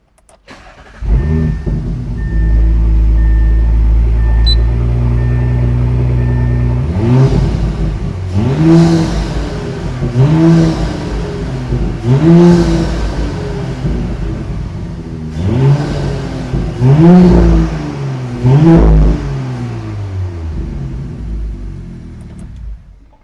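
A 2023 Audi S4 engine with a 034Motorsport intake and inlet, before its tune, cranks and catches, then idles with a low rumble before being revved repeatedly in sharp bursts, loud and close, with no talking.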